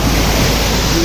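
Sea waves off the coast at Aparri, a loud, close, continuous rushing of surf with no voices.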